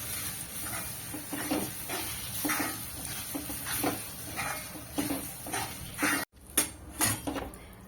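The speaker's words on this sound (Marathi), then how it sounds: "एकसारखं आपल्याला हे हलवत राहायचं आहे" A spoon stirs semolina and potato batter in a kadhai over a low flame, making repeated scraping and clinking strokes against the pan at a steady rhythm, close up, with a brief cut in the sound near the end.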